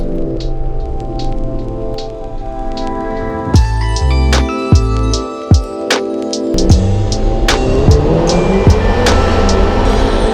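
A McLaren GT accelerates hard out of a corner, its loud engine note climbing steadily in pitch across the second half, with a rushing, rain-like hiss and scattered ticks over a constant road roar.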